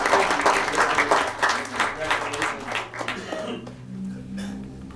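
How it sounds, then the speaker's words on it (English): Audience applause at a city council meeting, a sustained round of clapping from a crowd that tapers off toward the end, with some talk mixed in. "Another round of applause to these folks who really done a great job."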